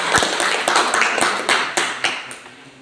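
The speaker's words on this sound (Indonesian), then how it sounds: "Tepuk tangan untuk kelompok 1." Students in a classroom clap for a presenting group, a run of sharp, separate hand claps close by, slowing and fading toward the end.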